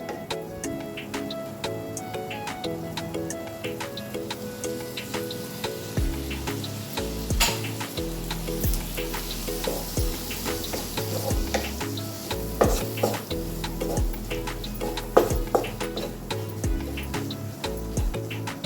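Tomatoes sizzle alongside cabbage in a pan for curry, a continuous moderate frying hiss with frequent sharp clicks and scraping from stirring, and a low rhythmic hum in the background.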